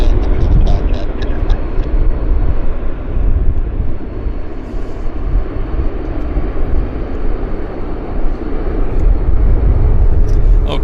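An airliner landing at Vancouver airport, a loud, broad engine roar that stays steady and close throughout, with wind buffeting the microphone.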